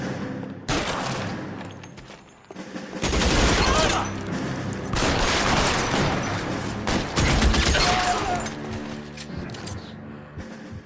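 Gunfire in the video game L.A. Noire: bursts of rapid shots and booming blasts come in several loud clusters separated by brief lulls, mixed with game effects and some talking.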